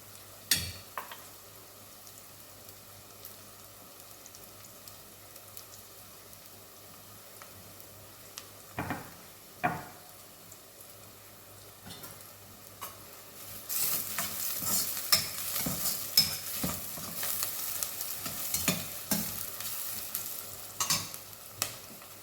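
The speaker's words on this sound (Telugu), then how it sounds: "తాలింపులు వేస్తున్నాను" Spices and garlic crackle and stir in a pan, with sparse taps at first, then a louder, steady sizzle of hot oil joining midway.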